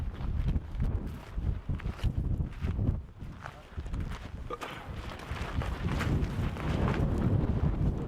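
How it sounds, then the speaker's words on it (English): Strong night wind buffets a microphone high on Kilimanjaro, a loud, rumbling, gusting roar that surges and dips throughout, with people talking faintly under it. "It's brutally windy tonight"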